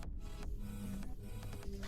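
Close by, a worn 1970s-era vacuum cleaner from a defunct maker runs with a coarse, continuous mechanical whine and rattle, steady and fairly loud for the whole brief stretch.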